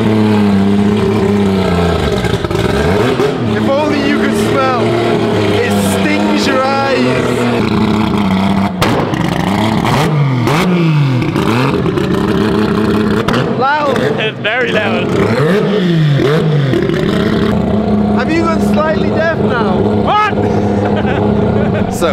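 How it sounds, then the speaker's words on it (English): Loud triple-rotor turbocharged rotary engine revving hard in repeated rising and falling bursts, raw and close, with people talking over it throughout. "Triple rotor turbo."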